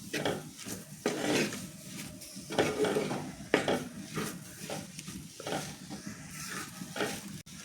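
Ingredients fry and sizzle in a pan for pork cooking, with steady crackling broken by scraping stirs and occasional clanks of utensil against the metal, close and moderately loud with no talking.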